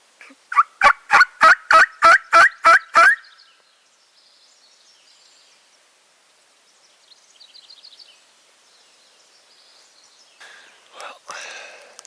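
A wild turkey lets out one loud, rapid rattling gobble, followed by quiet woods with faint distant birdsong and a soft whisper near the end.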